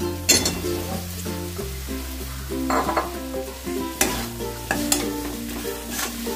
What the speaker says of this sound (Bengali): এবার আমি আলুগুলোকে দিয়ে দেবো